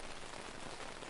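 Steady rain falls on the surfaces of a garden, a soft, even, continuous patter, fairly quiet, with no voices.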